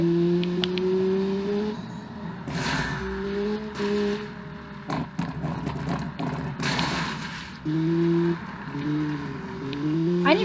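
A rally-style hatchback in the Automation racing game bounces along an off-road trail, its engine revving up and down in uneven bursts with tire and impact noises breaking in between, loud and close.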